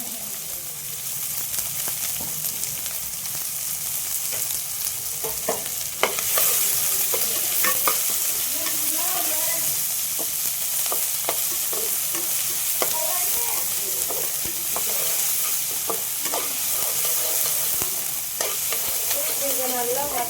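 Green chillies and finely chopped onion fry in a pan, a continuous loud sizzle with repeated scraping stirs clattering against the pan, a brief faint voice at most.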